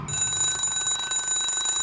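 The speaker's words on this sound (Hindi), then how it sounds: "अचानक उसके फोन पर अलार्म बज उठा।" A phone alarm rings in a steady, bright electronic tone that repeats in rapid pulses, loud and close, with no voices.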